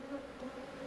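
Honey bees buzz steadily around an opened hive during a routine inspection, a continuous faint droning hum with no voices.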